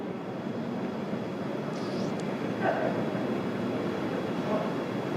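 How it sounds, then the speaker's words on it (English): Falcon 9 rocket ascent with its first-stage Merlin engines throttled down, a steady, distant broadband roar and rumble that holds through the whole stretch with no speech. "We heard we're throttling down the Merlin engines on the first stage."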